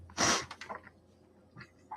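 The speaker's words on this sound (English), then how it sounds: "there's a sneeze right on the edge." A single sharp sneeze bursts out near the start, followed by a few softer breathy sounds and quiet rustling.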